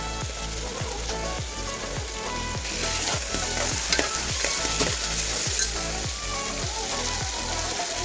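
Ginger garlic paste sizzles and fries steadily in a hot pan, a dense continuous crackle with soft rhythmic scraping strokes of stirring throughout, close and alone with no voices.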